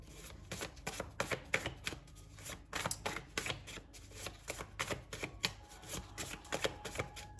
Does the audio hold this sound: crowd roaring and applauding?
no